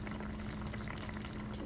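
Cornstarch slurry poured into a simmering sauce for orange berry cinnamon rolls, a steady close bubbling and liquid wash with a low hum underneath, continuous and even for under two seconds, no talking.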